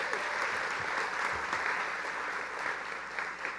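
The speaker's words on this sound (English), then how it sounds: "Let's give them all a round of applause." Audience applause fills a county government State of the Third District event in Riverside County, a steady, dense clapping that holds at an even level throughout with a faint murmur of voices beneath it.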